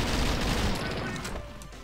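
Rapid automatic gunfire from an Uzi in the shooter game Reelism, a dense loud burst of shots that thins toward the end, with a voice faintly under it.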